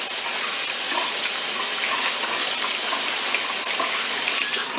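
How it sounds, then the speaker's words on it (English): A kitchen tap runs steadily while hands are washed under it, giving a constant close hissing splash of water with no pauses and no talk. "Let me just wash my hands."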